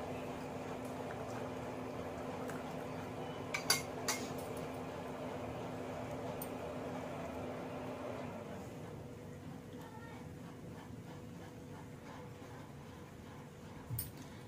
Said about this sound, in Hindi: अब हम हमारा घी छान लेंगे